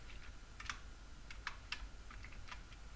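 Code is typed on a computer keyboard in sparse, quiet clicks, with a handful of separate keystrokes spread irregularly across a few seconds against a low background hum, and no voices.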